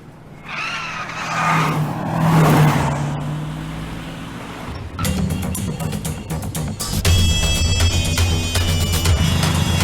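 A car pulls away to give chase, its engine rising and swelling, then loud, continuous road roar with rattling bursts and tire noise as it speeds off.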